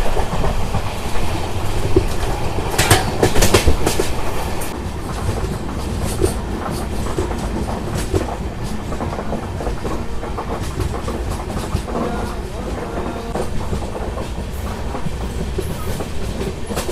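The Kolkata–Sairang train 13125 rolls along after leaving Jangipur Road, its wheels beating a steady clickety-clack over the rails with a loud rumbling carriage noise heard from on board.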